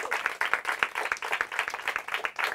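Studio audience at a Hindi quiz show claps for the competing teams, a brisk, fairly close burst of many hands clapping in an even patter that holds steady the whole time.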